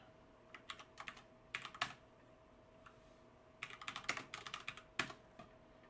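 Someone types on a computer keyboard in short bursts of close, crisp key clicks with brief pauses in a quiet room.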